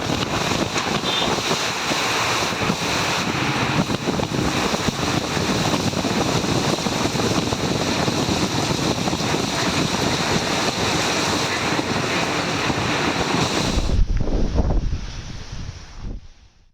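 Heavy rain driven by strong gale winds during an hour-long downpour, a dense continuous roar of wind and pouring water that stays loud and steady before dropping off sharply near the end, with no voices.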